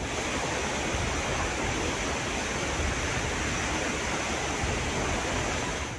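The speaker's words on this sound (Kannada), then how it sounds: "ಮಳೆ ಹೆಚ್ಚಾಗ್ತಾ ಇದ್ದಂತೆ ಹೊಳೆ ಭೋರ್ಕರಿತಿದೆ" A small rain-swollen stream roars in Attedi village, Madikeri taluk, Kodagu, during heavy Karnataka monsoon rain. The rushing water sounds close, loud and steady from start to finish, with no voices.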